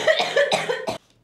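A person coughs in close, loud bursts: two or three rough coughs in quick succession, a brief pause of silence, then another cough starting, heard alone without talk.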